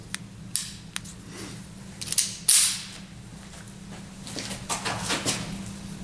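FN Browning M1905 .25 ACP vest pocket pistol fired outdoors, a few sharp, short pops spaced about a second apart followed by fainter handling noises.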